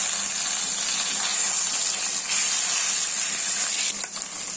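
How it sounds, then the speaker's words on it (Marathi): Green masala paste and ginger garlic paste sizzling and frying in hot oil for a prawn curry, a steady bright hiss with faint stirring, continuous and close with no talk. "याच्यामध्ये आपण हिरवं वाटण आणि आलं लसूणची पेस्ट टाकणार आहोत आणि चांगलं परतून घ्यायचं आहे"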